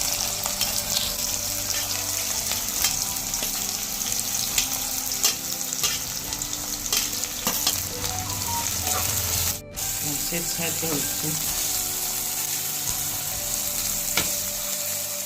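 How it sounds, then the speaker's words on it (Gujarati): Chopped onions hit hot oil for Kathiyavadi olo and keep up a steady, loud sizzle across the whole stretch, with occasional stirring clatter and one brief dropout midway. "તેલ ગરમ થઈ ગયું છે. હવે આપણે એમાં સમારેલા કાંદા એડ કરીશું"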